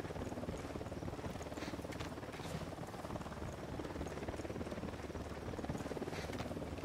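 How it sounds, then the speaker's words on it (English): A helicopter approaches in the Ghost Recon video game, its rotor giving a faint, continuous rapid thumping that stays steady throughout. "Chopper inbound."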